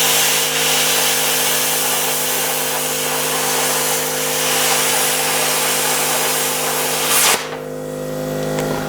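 A YesWelder Firstess CT2050 plasma cutter slices through 1/2 inch thick steel with a loud, steady hissing roar and a constant electrical hum. The hiss cuts off abruptly near the end, leaving the hum.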